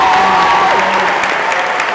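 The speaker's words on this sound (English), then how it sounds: "Let's give a round of applause to the sophomore class." Audience applause for a high school sophomore class at a morning school assembly, a dense, steady wash of clapping filling the full two seconds at close range.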